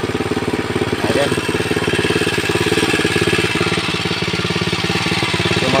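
An engine-driven water pump on a farm among calamansi and banana plantings runs at a steady, loud, close chug that throbs evenly through the whole stretch with no pauses.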